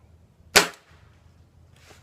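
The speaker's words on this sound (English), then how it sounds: "But I'm going to shoot a lead pellet." A Gamo Whisper Fusion Elite air rifle firing a lead pellet, one sharp close crack followed by a faint short thud of impact, then quiet.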